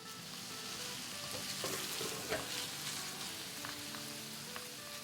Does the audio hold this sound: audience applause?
no